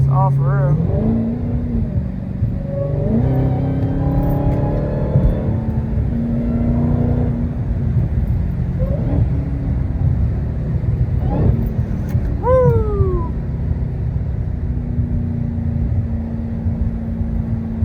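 A widebody Dodge Hellcat's engine drones in a deep, loud rumble while driving at night, with rising whines as it accelerates through the gears and someone talking over it.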